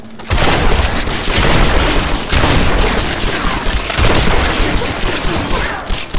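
A minigun fires in a video game with a loud, dense, continuous roar of rapid shots and booming blasts, almost unbroken for several seconds after a brief quiet start.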